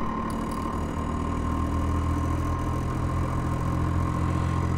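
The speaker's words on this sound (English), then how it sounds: "you're gonna hear the tone difference. The motor's gonna speed up" An experimental pulse motor runs at a steady pace with a dense, buzzing hum and a low pulsing drone, close and continuous throughout, with no talking and no clear change audible within the span.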